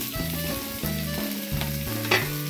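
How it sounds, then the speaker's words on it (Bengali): Boiled potato pieces fry and get stirred in oil, making a steady close sizzle with scraping stirs, while gentle background music plays throughout. "এর মধ্যে নাড়াচাড়া করে ভেজে নেব"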